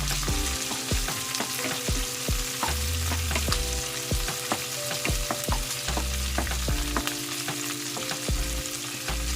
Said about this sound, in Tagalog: So, igisa lang muna natin saglit yung ating sibuyas.